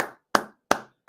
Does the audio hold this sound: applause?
yes